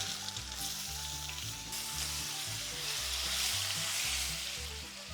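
Stuffed eggplants hiss steadily as they fry in oil with mustard seeds and turmeric, a loud, continuous close-up sizzle with low tonal sounds running underneath throughout.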